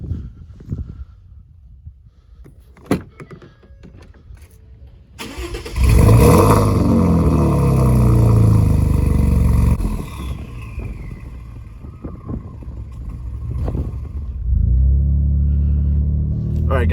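A Ford F-150 pickup's 2.7-liter twin-turbo EcoBoost engine cranks and fires up loudly, then settles into a steady, deep idle with a rumbling rev partway through.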